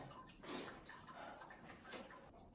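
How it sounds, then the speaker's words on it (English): Faint water trickles and drips inside a well within a rock-shelter cave along the Ozark Highlands Trail, a soft, uneven splashing heard at a distance with low outdoor ambience. "There's a well down in here, right there. I can hear the water."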